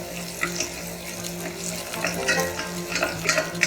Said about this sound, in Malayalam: ഇതൊന്ന് ഒരു മിനിറ്റ് നേരത്തേക്ക് നമുക്കൊന്ന് ഇളക്കി കൊടുക്കാം.